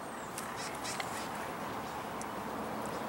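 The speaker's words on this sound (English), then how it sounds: "Birds!" Birds call in a park with a few faint, duck-like quacks and caws, scattered over steady broadband outdoor noise with no one talking.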